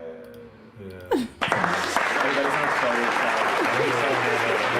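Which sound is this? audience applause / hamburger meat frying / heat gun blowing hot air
audience applause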